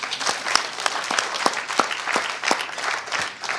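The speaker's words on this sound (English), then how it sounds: "Can you clap for yourself" An audience at an evening community meet-and-greet at Toronto Police Headquarters claps steadily, a dense, loud, even wash of applause from a roomful of people with no voices over it.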